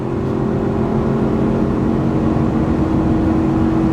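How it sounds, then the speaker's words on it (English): Ford F350 with a 7.3L gas V8 at wide open throttle, towing up a 6% grade in second gear: a steady, loud engine drone with a strong low harmonic hum, continuous and unbroken with no talk. "So this is wide open throttle, guys."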